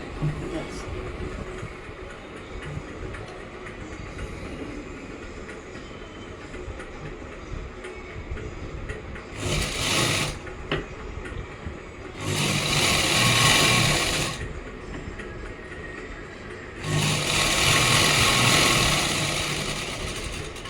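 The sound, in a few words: sewing machine stitching a salwar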